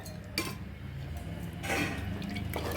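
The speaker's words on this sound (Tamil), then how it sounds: "இப்போ இது கூட ஒரு டம்ளர் அளவுக்கு தண்ணி அதோட சேர்த்துக்குவோம்." A tumbler of water is added to a pot of biryani curry, heard as short, close liquid splashes and trickles in a few separate bursts, with faint clinks of metal vessels and no talking.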